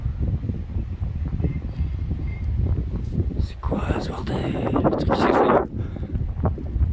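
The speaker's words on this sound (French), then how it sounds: "C'est quoi ce bruit de vent?" Strong foehn wind storm roars and buffets the microphone, surging louder about halfway through, while someone talks over it in French.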